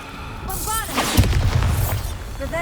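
Bombarda spell blast in Hogwarts Legacy, a spell-cast whoosh with chiming tones leading into one heavy booming explosion with a rumbling tail, followed by faint sparkling game chimes.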